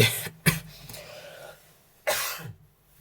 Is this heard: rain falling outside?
no